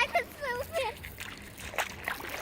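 Seawater splashes and sloshes as people wade into the sea for a winter swim two days before New Year at Herceg Novi, faint scattered splashes beneath nearby voices talking and exclaiming.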